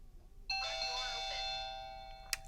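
A Qolsys IQ Panel 2 security panel plays its front-door chime: a single bright electronic ding-dong tone that rings out and decays over about two seconds, followed by a faint short tap.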